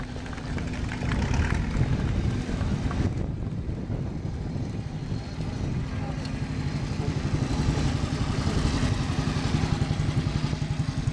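A classic scooter engine runs steadily at a classic car show outdoors, its low buzzing drone continuous and fairly close, with wind noise across the microphone.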